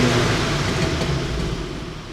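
Volkswagen Golf R engine rumbling through a muffled exhaust, a steady, loud low-pitched drone that eases slightly in level over its brief length, with no talk.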